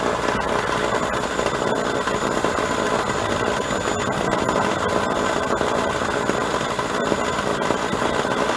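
A wire wheel grinds steadily against a cylinder-head engine valve stem, the cleaning tool moved evenly up and down the stem; a continuous, loud, dense whirring buzz runs throughout without pause or talk.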